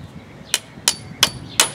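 Wooden bungs being tapped into holes in an old wooden deck: four sharp hammer knocks at an even, quick pace, close and distinct over quiet outdoor background.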